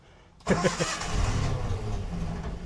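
A Datsun 140J Violet engine is cranked for its first start in 20 years, kicking in abruptly with a loud burst of turning over and then settling into a rough, steady running drone.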